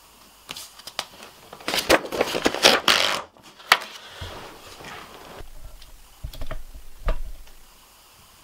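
Scissors snipping through paper while cutting out drawn shapes for paper cut art, a run of sharp, close crisp cuts and rustles with short pauses between them.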